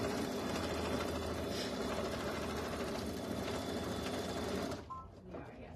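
A sewing machine stitches a mini quilt in a fast, loud, continuous whir for nearly five seconds, then stops abruptly, leaving a quieter room.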